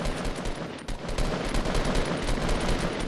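Rapid gunfire in Fortnite Battle Royale, dense overlapping bursts of shots rattling continuously, loud and close, with no talking over it.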